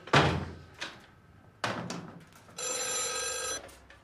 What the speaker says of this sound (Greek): Τηλέφωνο. Άστο, θα το σηκώσω εγώ.